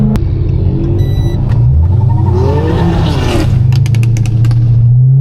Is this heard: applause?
no